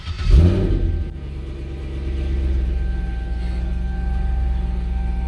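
A 2007 Corvette fires up with its push-button start: a brief starter whirr, then the engine catches with a loud rev and settles into a deep, steady idle rumble, heard close and alone.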